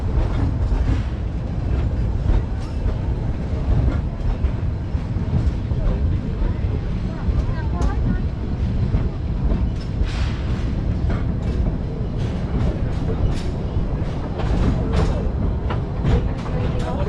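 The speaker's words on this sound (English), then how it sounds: "I hear ya, I'm going. Here we go." Roaring Camp steam train setting off on a redwood forest railroad, pulling 80 to 100 tons behind a 42-ton locomotive, a steady low rumble of rolling cars with faint clicks and squeals, close and continuous, with talk over it.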